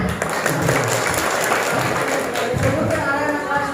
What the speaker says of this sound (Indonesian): Oke, terima kasih, tepuk tangan.